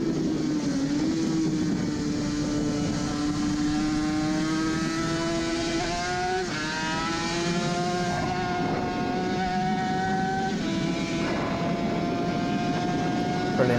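Suzuki RG500 classic racing motorcycle pulling uphill toward Harold's Rise, the two-stroke engine loud and close as it climbs through rising revs and several gear changes.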